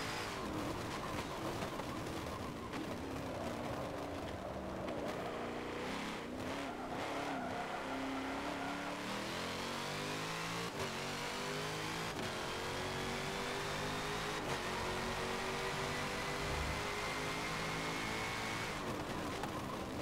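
Race car in Forza Motorsport 7 lapping a circuit, engine revving and shifting continuously through the gears, with rising and falling pitch and occasional tire noise, steady and loud throughout with no talk.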